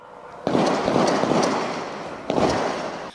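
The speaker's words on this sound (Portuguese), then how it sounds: "dava para se ouvir os tiros. Foram vários disparos." Two loud sharp bursts of gunfire at night, each followed by a long rumbling echo that slowly fades, heard from a distance in an open space.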